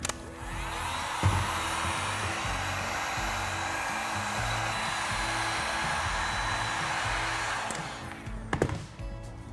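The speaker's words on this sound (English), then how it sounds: "Got our heat gun, and we'll be using the high setting." A heat gun on its high setting while shaping foam: a continuous loud blowing whoosh with a steady motor whine, ending with a few knocks and handling clatter as it stops.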